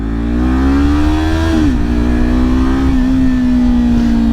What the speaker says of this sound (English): the exhaust sounds absolutely amazing